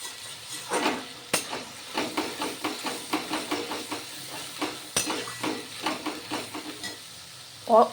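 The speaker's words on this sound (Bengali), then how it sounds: "আমি যে পেঁয়াজ, রসুন, আদা, কাঁচা লঙ্কা দিয়ে পেস্ট করেছি, সেটা এর মধ্যে অ্যাড করে দিলাম। একসঙ্গেই ভাজা ভাজা হয়ে যাবে।" A paste of onion, garlic, ginger and green chilli fries with a steady hiss while a spatula strokes it in a quick, regular rhythm of scraping pushes, close and moderately quiet, with a couple of sharp clinks against the pan and no voices.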